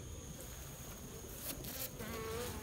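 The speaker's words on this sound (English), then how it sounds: "I'm about to shake these bees off back into this box" Honey bees buzz in a close, steady swarm around hive frames being shaken back into a box, with a continuous droning hum and a few louder passes near the end.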